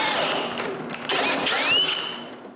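A drill bit bores through a wooden panel at a small marked point during woodworking, giving a steady, close whirring grind with a rising high whine partway through.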